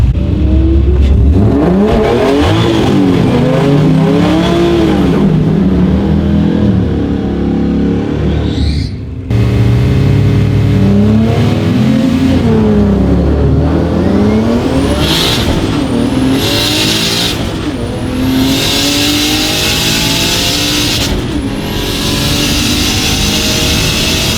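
A turbocharged BMW E36 launches down a drag strip, its engine revving hard and climbing through the gears with rising whine and loud, continuous roar, with gear-change dips along the way.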